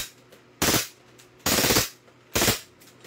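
A gun is test-fired with its selector on rapid fire, in three loud, close bursts of automatic shots, each about a quarter second long and spaced evenly apart, with no talking.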